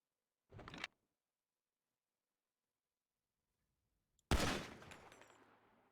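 Gunfire in a role-play video game: a short sharp burst, a long silence, then a loud blast with a lingering decaying tail.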